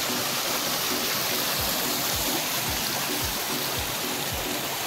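Water flowing steadily where fishing nets are set, a constant broadband rush like a stream or small weir, close and loud, with no voices over it.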